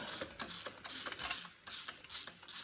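A hand ratchet tightens bolts on a Volkswagen 1.9 TDI diesel engine in a Mk4, giving rapid repeated clicking strokes in bursts with short pauses, close up and with no speech.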